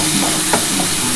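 Egg, potato and soybean curry being stirred in a pan as spices fry, giving a steady, loud sizzle with soft scraping strokes of the spoon throughout.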